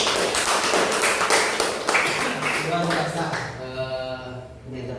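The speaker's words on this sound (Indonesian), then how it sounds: "Tepuk tangan dulu." Classroom hands clapping in a teaching practice session, dense claps for the first few seconds that fade as a voice begins speaking over them.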